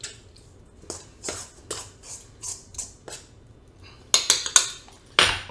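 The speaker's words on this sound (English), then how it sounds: "Whisk it up, get a fork and kind of give it a good beating." A fork clinks and scrapes against a bowl while beating a paprika seasoning mix, a series of irregular close metallic taps and clatters, sharper and louder toward the end.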